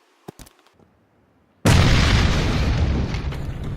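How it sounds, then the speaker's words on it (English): Grenades blow up a buggy in Battlegrounds: a few small pops, then a sudden loud boom that rolls on as a sustained roaring rumble. "And that was a nice explosion."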